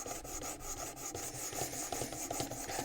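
A knife blade is drawn over a sharpening stone on a WorkSharp Precision Adjust, giving quick rhythmic rasping strokes, close and fairly quiet, with no voices.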